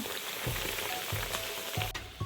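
Bread pocket sandwiches frying in hot oil, a steady close sizzle with soft bubbling crackle and a few brief clicks and pops throughout.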